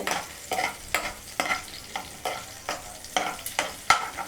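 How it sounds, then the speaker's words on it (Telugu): Green chilies sizzle in a hot pan while a spatula scrapes and stirs them in sharp, regular strokes roughly every half second, each scrape standing out over the continuous frying hiss. "పచ్చిమిర్చి వేగిద్దాం. ఈ పచ్చిమిర్చి వేగినాయండి."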